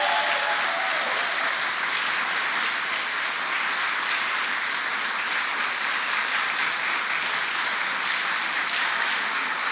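An audience claps in sustained, even applause after an announcement on reopening from pandemic restrictions, a dense wash of many hands that stays loud and steady for the whole stretch without talk.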